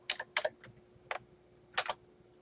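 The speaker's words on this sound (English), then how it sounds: "I go all the way to the end, and I'm going to type in 12" Keystrokes on a computer keyboard while entering a value in animation software: three quick bursts of clicks, near and fairly soft, with short pauses between them and no talking.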